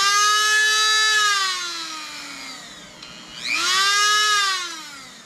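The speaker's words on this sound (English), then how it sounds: "this is just a little Craftsman 110 volt Dremel tool" A small corded Craftsman 110-volt Dremel rotary tool whines at a high, steady pitch, winding down briefly mid-run and then spinning back up, loud and close with no talk.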